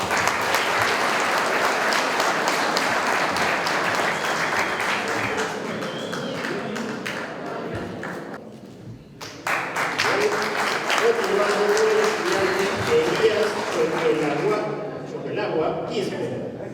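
Steady applause from an audience at a graduation ceremony for motorcycle and vehicle mechanics students, sustained clapping that dips briefly around the middle and swells again, with a voice speaking over it.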